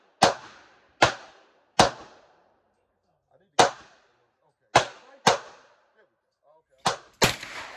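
Rifle shots from 300 Blackout rounds ring out outdoors, about nine sharp, loud reports at uneven intervals, each with a short decaying echo, the last two coming close together.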